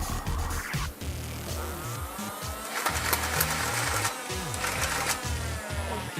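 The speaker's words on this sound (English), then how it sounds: "here we're with Nerf Rapidstrike CS-18. Rapid fire, has a motor. So let's see how far this baby shoots." A motorized Nerf Rapidstrike CS-18 blaster whirs and fires in a fast mechanical burst, its motor buzzing steadily with rapid rhythmic clacking of darts cycling, close and continuous.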